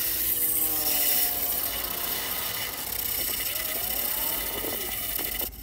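An aluminium workpiece being scrubbed clean before argon welding, a continuous harsh rasping and rubbing with a few brief squeaks, close and alone.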